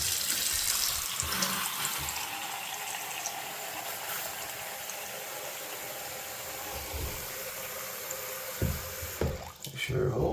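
Water runs from a newly replaced kitchen faucet into the sink in a steady close rush, with a few knocks and clatters near the end as the flow is tested.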